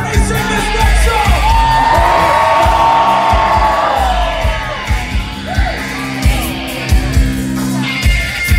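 A rock concert crowd at The Concourse in Knoxville, Tennessee screams, yells and cheers in a loud sustained roar, then thins out into scattered shouts and whoops.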